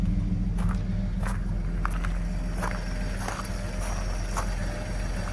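A 1950 Chevrolet 3600 pickup with a side exhaust idles steadily, a low continuous engine rumble heard close and alone, with a few faint clicks and knocks over it.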